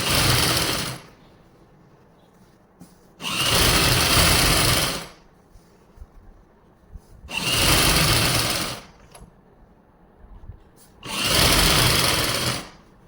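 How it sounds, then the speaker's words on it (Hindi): A sewing machine stitches the hem of a salwar leg in three loud bursts of about two seconds each, separated by quiet pauses, with no talking. "इसको ऐसे रखते हुए पूरी मोरी पर ऐसे सिलाई लगानी है।"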